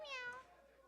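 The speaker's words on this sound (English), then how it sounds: "But the meow that you added." A single short cat meow sound effect plays faintly and briefly over a livestream, rising and falling in pitch and fading out within a second.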